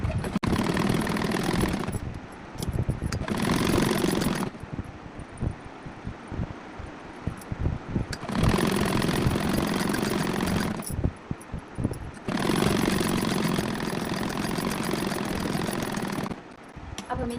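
A sewing machine stitches an umbrella suit in loud, close bursts of rapid mechanical rattling, each lasting a few seconds, separated by quieter gaps of handling noise.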